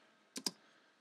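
Two quick, faint key clicks in a row on a computer keyboard, close by in a quiet room.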